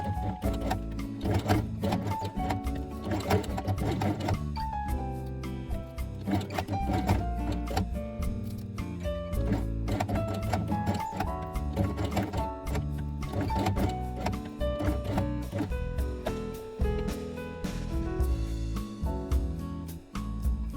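A sewing machine runs in steady bursts, stitching hook-side velcro along the edge of a fabric craft page, its rapid mechanical whirring mixed with music that plays throughout.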